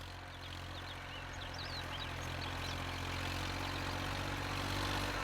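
A tractor engine runs with a steady, low, droning idle, faint and continuous throughout with no voices.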